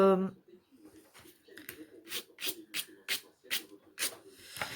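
A brush lays satin-finish varnish over a diamond painting canvas covered in beads, making a series of short, crisp rubbing strokes up close, preceded by a brief voice.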